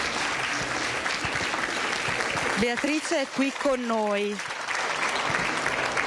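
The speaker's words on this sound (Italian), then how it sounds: "l'applauso è scrosciato" Loud, dense audience applause fills the whole stretch, with a voice speaking over it midway through.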